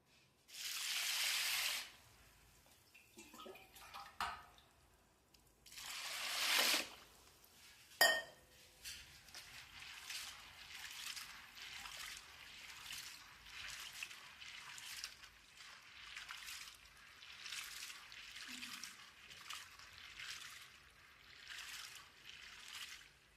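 Sago pearls washed in water in a metal pot: close swishing rushes of water and grains, a clink of the vessel, then a long run of rhythmic swirling splashes as the pearls are rubbed and rinsed by hand.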